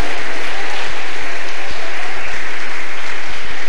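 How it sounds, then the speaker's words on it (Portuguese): A church congregation claps its hands together, a loud, dense wash of clapping that fills the whole stretch without letting up. "Louva Jesus com as palmas, igreja."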